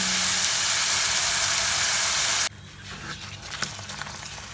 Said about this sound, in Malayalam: അത് ഈ മസാല പറ്റിയിട്ട് ചെമ്മീൻ നമുക്ക് പൊരിച്ചെടുക്കുക